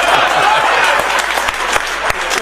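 Audience applause at a Hindi poetry recitation, a dense broadband wash of clapping filling the whole short stretch, steady and fairly loud, with a few sharper individual claps standing out near the end.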